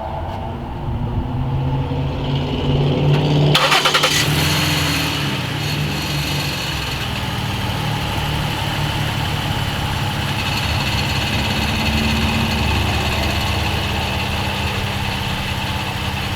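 A Ford Taurus 3.5 V6 fires up after a serpentine belt job and settles into a steady idle, with a brief startup burst followed by a continuous engine hum close by, no talking.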